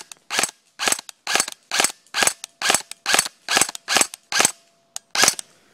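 A G&G GR-15 Raider XL airsoft rifle fires about eleven sharp, close, loud shots, mostly in an even semi-automatic rhythm with a short pause before the last one or two, and no other sound in between.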